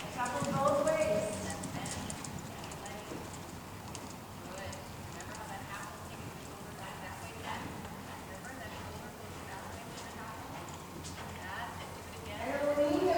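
A horse canters on arena footing during a dressage clinic, with steady rhythmic hoofbeats throughout. An instructor's voice comes and goes over the hooves.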